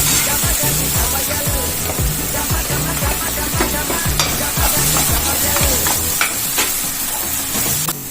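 Masala frying and being stirred with chunks of mutton, liver and bone in a pan for Tamil-style mutton gravy: a steady, loud sizzle with a regular rhythm of stirring scrapes throughout, close up, with no talk.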